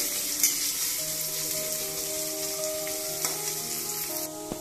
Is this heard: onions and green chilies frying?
yes